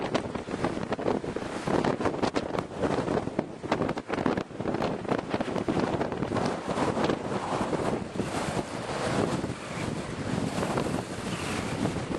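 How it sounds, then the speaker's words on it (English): Strong wind in Scotland buffets the microphone throughout, a steady loud roar with gusty rumbling and no voices. "Alright, so I'm going out. It's windy."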